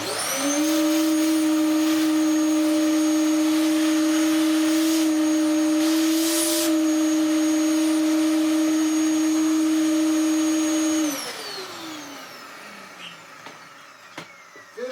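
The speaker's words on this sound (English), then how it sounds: "Right, plug this Dyson in" A Dyson mini vacuum cleaner with a hose fitted, running with a loud, steady high whine for about eleven seconds before spinning down and fading away.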